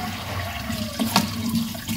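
Glutinous rice being washed in water before cooking, a short close burst of splashing and sloshing with running water and a quick louder swirl in the middle, no talking.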